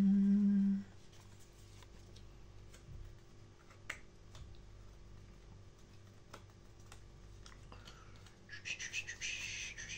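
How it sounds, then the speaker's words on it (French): A small bird chirps faintly in a short burst of high notes near the end, after a brief low hum, while scattered light taps and clicks sound close by in a quiet room. "Un petit oiseau là."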